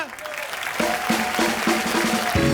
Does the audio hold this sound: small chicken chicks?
no